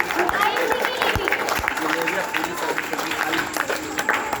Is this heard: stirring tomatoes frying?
no